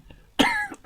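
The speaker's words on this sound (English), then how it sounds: "I do apologise for the cough." A man in his garage gives one sharp, close cough, then a shorter follow-up cough a moment later, with quiet room tone between them.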